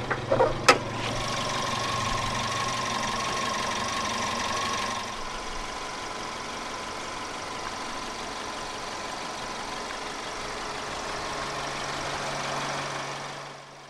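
A 2008 Suzuki Swift Sport with a naturally aspirated 1.6-litre M16A inline-4 engine with variable valve timing idles steadily, a low, even hum with a faint tonal whine, nothing else heard.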